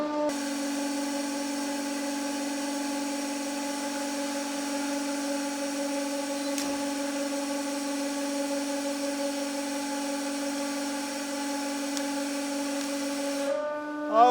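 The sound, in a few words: 150 ton hydraulic press driving knife into polycarbonate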